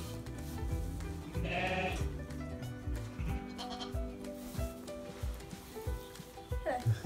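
Welsh Mountain sheep and lambs bleat at lambing time, several close calls rising and fading over a low barn murmur, with soft shuffling and a brief voice near the end.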